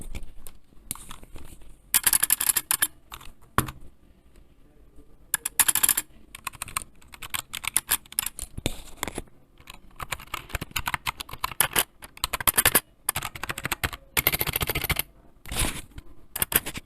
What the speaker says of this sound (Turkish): Kahverengi switch'li bir klavye bu.